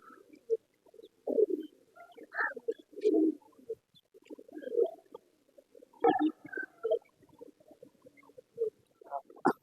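Pigeons coo in soft, irregular bursts, several birds murmuring and burbling close by in a quiet setting.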